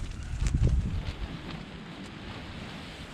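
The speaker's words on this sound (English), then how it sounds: "Just wait for a second here for the next gust." Wind gusts rush across open wilderness in the Superstition Mountains in January, a low buffeting roar that swells early, then settles into a steady, fainter blowing with no voices.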